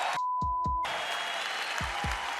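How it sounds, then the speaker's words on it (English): Broadband crowd applause at a heavyweight boxing event fills most of the clip, steady and fairly loud, after a brief gap with a few thumps at the start. "So please give him a round of applause as our heavyweight champion of the world."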